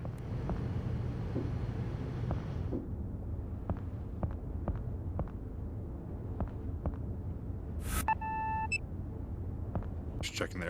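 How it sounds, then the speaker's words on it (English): A large ship engine in the Seafarer ship sim rumbles in a low, steady drone throughout, with faint regular clicks, a brief electronic beeping pattern, and a voice talking over it. "Oh yeah, we got ourselves a big engine."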